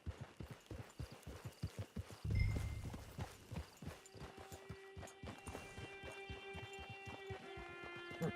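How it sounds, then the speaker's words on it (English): Horse hooves clip-clop in a steady, fairly close rhythm in the Red Dead Redemption 2 video game, with a brief louder rumble partway through and sustained musical tones rising in the background. "Get your horse."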